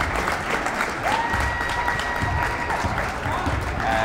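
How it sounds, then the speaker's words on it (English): Sustained applause from a crowd at a boys' high school varsity basketball game as players leave the court, steady and loud, with an announcer talking over it. "they'll get a big hand from the crowd"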